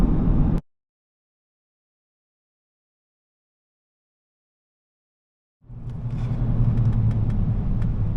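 Car moving through stop-start traffic on the M25 motorway, a steady low engine and road rumble that cuts out briefly, leaves a long silent gap, then returns louder and sustained.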